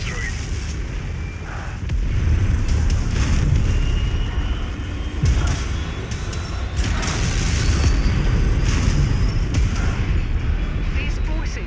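A tank blown apart in MechWarrior 5 during a VR campaign battle, heard as a loud, sustained rumbling blast with heavy low booms over continuous combat noise.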